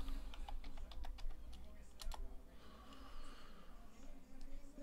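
Computer keyboard keys click in a quick irregular burst while working in LibreOffice Calc, crisp close taps over a low hum, with a little speech nearby.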